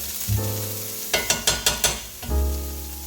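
Pork carnitas frying on high heat give a steady loud sizzle, broken by a quick run of about five sharp scraping or stirring knocks in the pan before the sizzle swells again.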